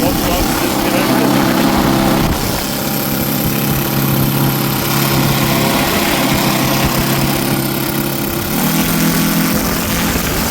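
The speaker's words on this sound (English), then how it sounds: "That's an idle with glow plugs disconnected." An OS FR300 model radial engine idles steadily with its glow plugs disconnected, a loud continuous low drone with a buzzing harmonic tone, running alone for about ten seconds.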